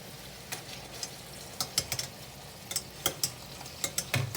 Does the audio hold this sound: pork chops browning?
yes